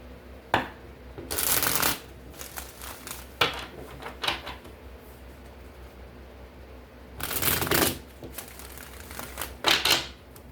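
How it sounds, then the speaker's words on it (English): Tarot cards shuffled in several quick riffling bursts with pauses between, close and fairly soft, with faint talk in the background. "Shuffle one more for Leo."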